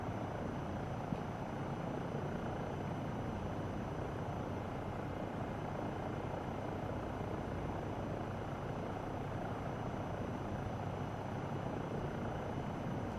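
A default helicopter in Microsoft Flight Simulator flies through mountain valleys, its rotor and turbine producing a steady, unbroken whir at constant loudness throughout, with no talk.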